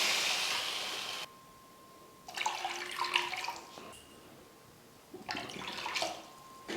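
Water poured from a container into a pan holding sugar for halwa, two separate splashing pours with a quiet pause between them, heard close and fairly soft.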